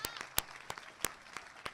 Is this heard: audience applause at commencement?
yes